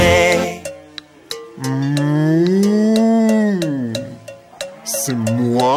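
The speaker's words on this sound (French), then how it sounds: "C'est moi, la vache d'Imo." A cartoon cow from a children's song moos in long, sliding, sustained calls, loud and close, with a short pause in between.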